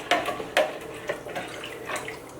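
Warm water splashes from a pour into a dish and is stirred to dissolve seasoning for baked rice. A few sharp, close splashes are followed by softer sloshing and drips.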